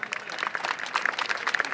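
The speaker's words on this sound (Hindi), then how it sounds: "एक मरतबा अपनी तालियों से बताएं कि ट्रांसमिशन आपको कैसी लग रही है।" An audience applauds at an iftar dinner hosted at the Sindh Governor House, with dense, steady clapping from a crowd that holds at moderate loudness throughout.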